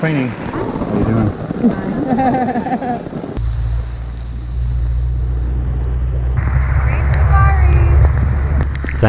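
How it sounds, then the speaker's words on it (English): Rain falls in Kui Buri National Park, Thailand, as thunder rumbles low and loud through the second half; a voice talks briefly at the start. "It's raining."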